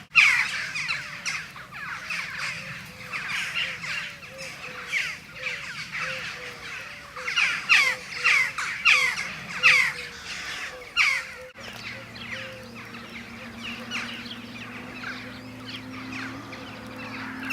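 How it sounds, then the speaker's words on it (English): A large group of crows ahead on a South Downs walk, cawing repeatedly in loud overlapping harsh calls from nearby and farther off, busy and rhythmic at first, then thinning out over a low steady background hum. "There's a parley of crows ahead, making quite a disturbance."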